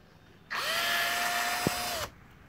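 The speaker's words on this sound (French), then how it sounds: "c'est parti, je perce." An electric drill bores into the plastic of a Peugeot 307 HDI headlight, a close, steady high whine that starts abruptly, holds for about a second and a half, then stops.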